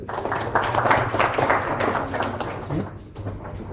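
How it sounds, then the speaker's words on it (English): A meetup audience at a Databricks user group in Jaipur applauds to welcome a speaker. The clapping is moderate and scattered, swells early, then thins out toward the end. "A big round of applause, everyone."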